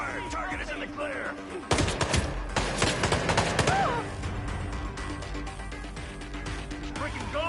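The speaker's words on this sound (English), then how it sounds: "Open fire!" Bursts of rapid gunfire in the Hitman video game crack out, with a dense volley in the middle, while game characters shout over the shooting.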